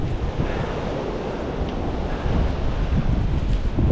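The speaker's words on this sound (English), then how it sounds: "Listen to that wind." Strong blizzard wind roars steadily outdoors among snow-laden trees, a loud continuous rushing that swells slightly toward the end, with no talking.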